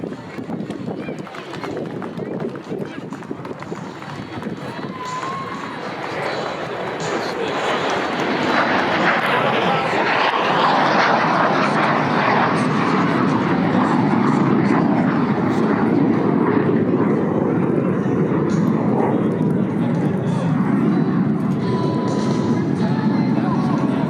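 A T-33 Shooting Star jet trainer roars past at an air show, a broad, steady jet rumble that swells and holds loud across the pass.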